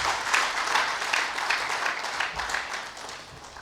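An audience at a directors of lands conference giving a round of applause, a dense, steady wash of many hands clapping in a large room, slowly thinning toward the end.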